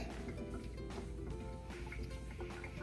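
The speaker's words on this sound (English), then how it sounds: "I'm rinsing off some celery hearts" Tap water runs in a steady, fairly quiet stream over celery hearts at a kitchen sink, a continuous splashing trickle with small drips, no talk over it.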